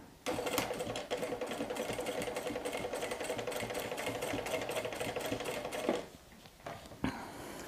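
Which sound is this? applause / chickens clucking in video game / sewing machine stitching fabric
sewing machine stitching fabric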